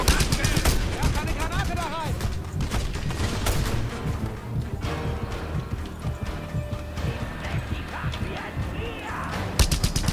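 Submachine gun fire in the Just Cause 2 video game, rapid bursts of shots mixed with hoofbeat-like clatter, explosions and game effects, with someone talking over parts of it.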